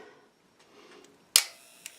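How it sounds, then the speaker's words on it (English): A 1970s Olympus OM-1 film SLR with a focal-plane shutter fires once, a sharp loud mechanical clack followed by a fainter second click a half-second later, after quiet handling noises. "There goes the shutter"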